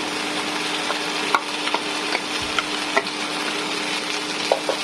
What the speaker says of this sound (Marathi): तांदूळ व खोबरे छान परतवून घेतोय आपण